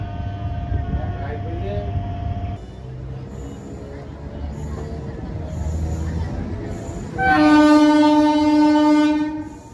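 Nidadavolu–Narasapur MEMU train pulling away from Nidadavolu Junction: rumbling carriage noise and rail clatter with people talking, then a long, loud multi-tone horn blast near the end.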